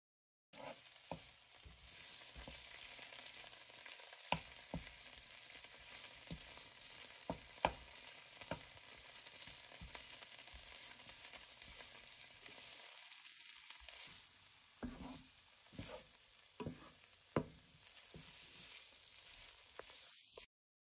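Thai red curry paste stirred in a hot pan for a restaurant-style tofu red curry: a faint, steady sizzle broken by scattered soft scrapes and taps of a spoon.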